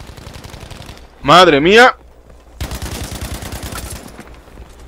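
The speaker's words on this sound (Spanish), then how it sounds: "escucho los disparos por aquí de este lado" Gunfire in the shooter game Battlefield V, heard as rapid automatic bursts, loud and close, split by a short exclamation from a man before the shooting picks up again.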